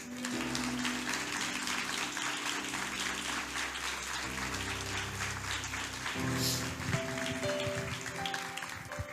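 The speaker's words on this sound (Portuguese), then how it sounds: "Você pode aplaudir a Jesus?" A church congregation at a Portuguese-language sermon applauds steadily for about nine seconds, a broad, even wash of clapping under sustained organ or keyboard chords.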